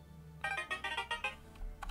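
Phone ringtone in a video game, a quick burst of bright electronic chirps in a rapid pulsing run, fairly close and alone.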